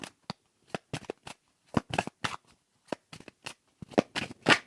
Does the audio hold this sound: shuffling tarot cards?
yes